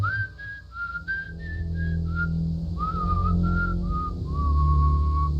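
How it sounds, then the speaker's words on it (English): A person whistles a simple tune: a run of short, clear notes, then longer held ones, over a low steady background rumble. "Someone whistling."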